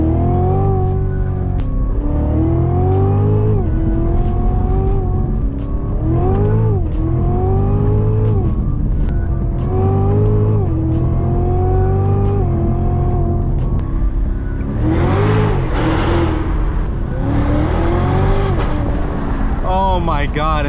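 A Cadillac CTS-V3 fitted with a Corvette Z06 engine accelerates hard, its loud, close engine note climbing in pitch and dropping at each gear shift, repeating several times through the run.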